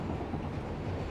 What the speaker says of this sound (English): And that's a train stopping on top of us.